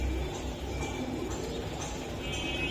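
A Jirawala pigeon coos nearby in a low, murmuring burble that is faint against a steady noisy background, with no talk.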